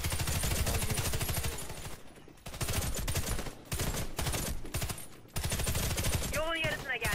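Rapid automatic weapon fire from the shooter game Warface, in long sustained bursts with brief pauses, loud and dense, while a voice talks at times over the shooting.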